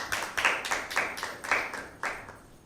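A small group at a school Bible quiz claps for a team, about eight or nine distinct hand claps in an irregular rhythm that thin out and fade toward the end.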